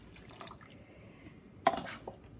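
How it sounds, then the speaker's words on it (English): Water trickles and splashes into a metal pot of cooking carrots in a short, quiet pour, with a brief louder splash partway through. "Okay, I'm still gonna add more water."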